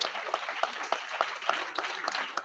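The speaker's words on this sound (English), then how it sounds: "Can you give a round of applause for my sister?" Audience applause at an annual gala in New York, a modest spread of claps from a roomful of guests, fairly distant and soft, steady for a couple of seconds.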